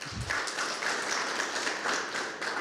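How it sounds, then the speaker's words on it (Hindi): An audience at a televised farmers' forum on chemical-free farming applauds to welcome farmers, a steady, fairly faint wash of clapping that continues evenly throughout. "अपना भी जोरदार तालियों से स्वागत कीजिए"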